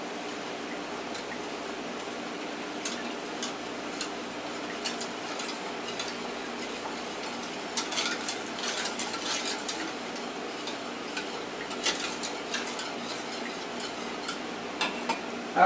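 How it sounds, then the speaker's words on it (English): Stirring a banana pudding mixture of sugar, salt and vanilla extract in a bowl, soft scraping swishes with intermittent spoon clinks against the sides, close and steady with no talking. "let's stir this up first."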